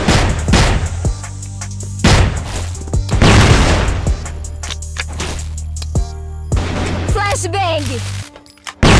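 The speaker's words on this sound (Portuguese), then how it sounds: "Flashbang" A flashbang grenade detonates during a ranked match in a competitive shooter game, a sharp loud burst with crackling debris and ringing, amid other game effects and players talking over it.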